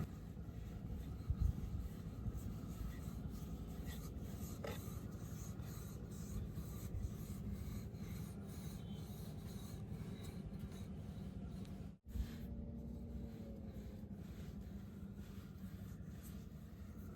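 Flour dough for nimki being rolled out with a rolling pin, a steady scraping, rubbing sound that continues with little pause, with one brief break near the end and no talking.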